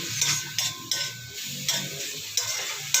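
Sautéed vegetables with fish sauce and black pepper are stirred in a pan, the utensil scraping and clacking in repeated rhythmic strokes over a low sizzle.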